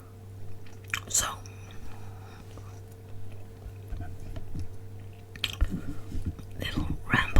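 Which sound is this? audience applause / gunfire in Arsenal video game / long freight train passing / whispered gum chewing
whispered gum chewing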